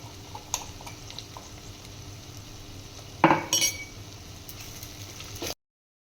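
Red chili and tomatoes stirred in a cooking pot for a winter oro dish, giving quiet low bubbling with soft scrapes and a brief cluster of clinks and a spoon knock midway.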